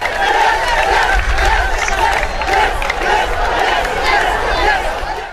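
A football crowd at a Somali league match claps and ululates, a dense, steady roar of applause with high trilling cries running all the way through, loud and continuous.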